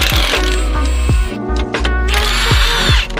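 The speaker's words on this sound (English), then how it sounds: "I'm attaching a 13 millimeter socket because we need to remove our sway bar mounting points to make some space." A power tool fitted with a 13 mm socket removes sway bar mounts on a car, giving a loud close whirring buzz with short bursts and sharp clicks, stopping briefly mid-way.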